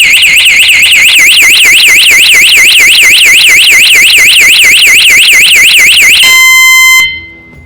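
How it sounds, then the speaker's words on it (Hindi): A loud electronic bicycle anti-theft alarm rapidly warbles up and down for several seconds, then switches to a brief steady beep before cutting off. "अगर आप इसे छेड़ने जाते हो, सो इस तरीके का कुछ आपको अलार्म सुनाई देता है."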